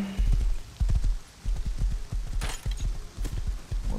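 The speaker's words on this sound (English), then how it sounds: "So let's take this horse." Horse hooves clopping at a walk in the survival game Rust, a steady run of close, heavy thuds with brief pauses and a sharp crack partway through, no talking.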